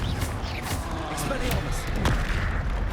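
In the video game Hogwarts Legacy, a Confringo fire spell goes off in a series of sharp booming blasts and thumps over a few seconds. The blasts sound close and punchy, mixed with the noise of combat.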